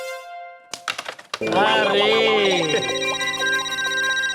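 A phone rings with a tonal, melodic ringtone for an incoming call, and voices talk over it as the ringing continues steadily.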